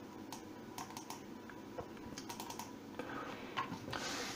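A computer mouse clicks in quick, faint, crisp taps, several short snaps spread across a quiet room.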